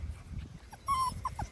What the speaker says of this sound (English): So these puppies are reverse Sheepadoodles.